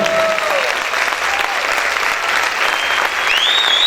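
Loud sustained applause from a church congregation during worship, a dense unbroken wash of clapping with faint voices and cries rising above it.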